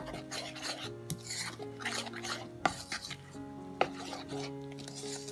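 Potato pancake batter, with a spoon or two of flour added, is worked in a bowl, giving a steady rasping, scraping stir with a couple of sharp knocks against the bowl over a low background hum.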